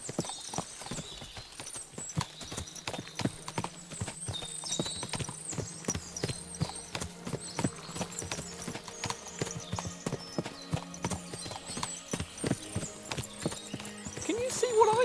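Several horses clip-clop steadily on hard ground in the video game Kingdom Come: Deliverance 2, hooves overlapping in a busy rhythm, with faint voices murmuring in the background.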